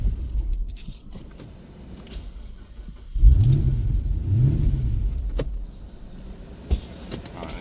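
A 6.1L HEMI engine in an SRT8 Jeep Grand Cherokee with an untuned camshaft idles with a low rumble, then revs up twice in deep surges as it pulls off, heard from inside the car.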